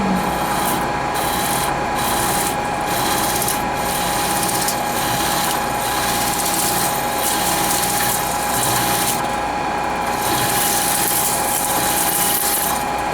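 Milling machine cutting with a 3/4 inch end mill at about 800 RPM, a loud continuous grinding whine with a steady tonal hum and rhythmic pulses throughout.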